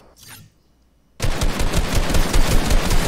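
Assault rifle gunfire in a video game box-fight erupts after a brief quiet gap, a dense, loud, continuous burst of rapid shots that keeps going to the end.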